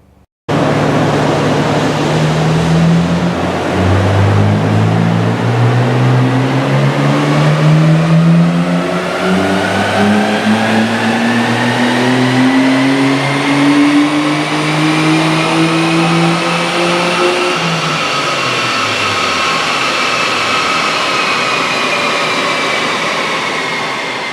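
A Nissan Skyline GT-R engine revs hard on a dyno, climbing steadily through the gears in long rising sweeps before dropping off near the end, loud and close with no talking.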